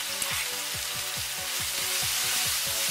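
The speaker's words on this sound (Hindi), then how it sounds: "2 से 3 मिनट के लिए इसको सौते करेंगे।" Onion and capsicum sautéing in a pan with ginger, chili and garlic paste, a steady close sizzle broken by a regular rhythm of stirring scrapes, with no talking.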